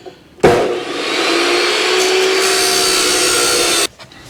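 A power tool cuts through steel angle iron for a bracket on a 1953 GMC truck, a loud sustained whining grind lasting about three and a half seconds that starts abruptly and cuts off sharply, with quiet before and after.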